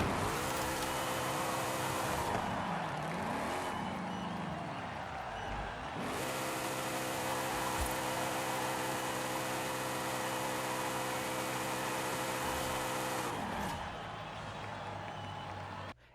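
Shelby muscle car engine held at high revs during a burnout in the video game Forza Horizon 5, a loud steady roar with tire noise that drops briefly and resumes, continuous and close.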